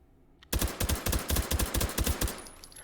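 An H&K MP5K fitted with a stock and suppressor fires a rapid burst in the VR game H3VR, a dozen or so close, evenly spaced muffled shots.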